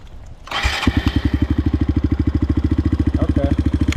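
A Suzuki DR 200 motorcycle with a new carburetor, engine warm, cranks and catches, then settles into a steady, close, loud single-cylinder idle with an even rapid thump and no talk.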